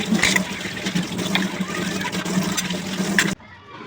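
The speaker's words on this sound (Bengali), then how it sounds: "আমি এখন চলে এসেছি ঠাকুরের বাসনগুলো মাজতে। বেশি ঠাকুর তো নেই, তো একটা খালি একটা গ্লাস আছে, তো ধুয়ে নিই আমি এখন।" Running water washes a glass in a steady, fairly loud stream with occasional clinks and splashes, stopping abruptly near the end.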